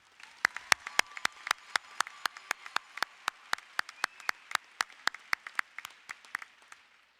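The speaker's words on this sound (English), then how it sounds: "Another big round of applause for our class president." A single person claps in a slow, even rhythm at a high school graduation ceremony, about two dozen crisp distinct claps, fairly faint, for the class president.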